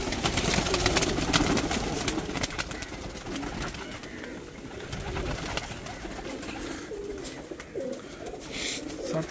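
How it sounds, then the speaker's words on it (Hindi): Champion pigeons at a loft in Sarai Alamgir, Jhelum, cooing and calling under a steady outdoor wash of ambient noise, with soft low murmurs throughout and no clear talk. "बहुत आला कबूतर माशाल्लाह।"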